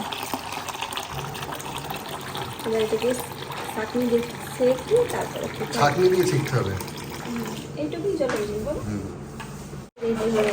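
Water pours into a cooking pot in a steady, gushing stream, heard under ongoing conversation among several people in a kitchen.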